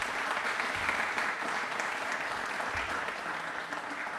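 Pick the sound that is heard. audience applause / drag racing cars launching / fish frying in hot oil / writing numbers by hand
audience applause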